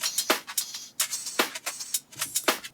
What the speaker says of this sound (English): And this is a cash register topper that sounds like this.